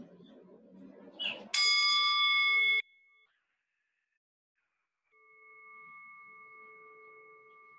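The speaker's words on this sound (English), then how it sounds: "I'm going to ring our bell, wait for the sound to end." A single meditation bell is struck once, rings clear and loud, then stops abruptly. After a short silence a fainter sustained tone rises and holds to the end.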